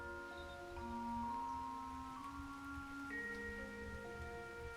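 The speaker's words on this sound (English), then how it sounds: "The rain was pattering onto the passenger plane from Madrid to Paris, while it was in its final descent." Rain patters on a passenger plane descending from Madrid to Paris in the adventure game Broken Sword 2.5, a faint steady wash with sustained musical tones layered over it and no voices.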